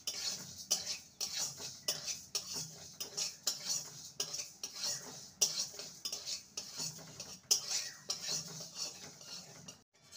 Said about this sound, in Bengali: এবারে মুগ ডালটাকে ভেজে নেব